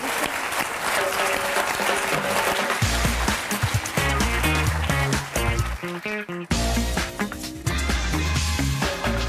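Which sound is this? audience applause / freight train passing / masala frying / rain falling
audience applause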